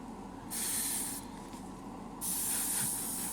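Airbrush with a 0.2 nozzle and needle spraying pre-thinned lacquer paint, heard as two steady hissing bursts, each roughly a second long, with a short pause between them and no talking.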